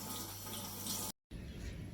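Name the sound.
liquid poured into a cup until it overflows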